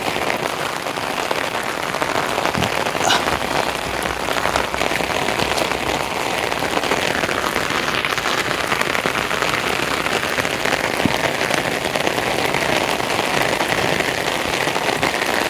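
Heavy rain pours steadily over a village, a dense, continuous hiss of drops on surfaces and standing water, loud and close throughout with no voices.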